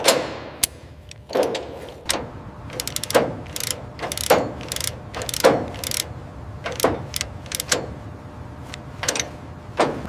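A ratchet jack is cranked in bursts of sharp, close metallic clicks to lift an abandoned 1967 Lamborghini Miura, with uneven pauses between strokes and low background noise.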